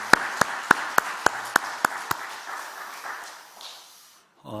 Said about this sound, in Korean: 하나님께 영광의 박수를 돌립시다